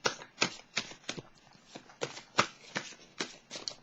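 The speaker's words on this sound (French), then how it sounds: "Je vais piger une carte de mon jeu Messager de l'univers" A deck of oracle cards is shuffled by hand in quick, riffling bursts of papery flicks, close and fairly quiet, with no speech.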